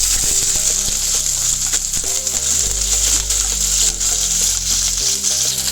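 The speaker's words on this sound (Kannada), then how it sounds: "ಆನಿಯನ್ ಮತ್ತು ಕ್ಯಾಪ್ಸಿಕಮ್ ಹಾಕ್ಕೊಂಡು ಚೆನ್ನಾಗಿ ಫ್ರೈ ಮಾಡ್ಕೋಬೇಕಾಗುತ್ತೆ" Capsicum sizzling in about two tablespoons of hot oil in a pan for street-style gobi manchurian, a steady loud frying hiss with occasional stirring clatters and no talking.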